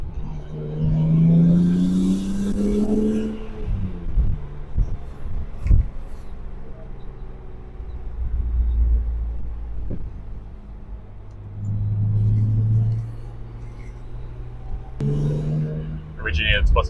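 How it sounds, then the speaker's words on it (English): A BMW E36 M3 with a modified intake revs hard from inside the car, its engine note climbing and falling in several surges over a low rumble, with someone talking between pulls. "this is a high revving engine"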